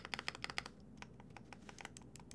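Keys on a Crush80 tenkeyless mechanical keyboard pressed one after another to check the stabilizers: a quick burst of crisp clacks followed by slower, scattered individual presses, close and quiet with no talking.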